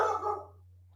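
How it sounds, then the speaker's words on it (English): A dog gives a short burst of barking up close, loud at first and fading away within half a second, then leaving near-silence over a low steady hum. "I think Mrs. Cincy is here because the dog's freaking out."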